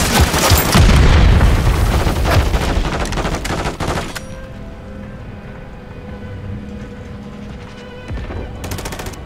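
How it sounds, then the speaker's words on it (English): A grenade exploding in the Call of Duty video game, a loud booming blast mixed with dense rapid gunfire for about four seconds, then a sudden drop to a quieter, ringing tail with faint distant shots. "Grenade!"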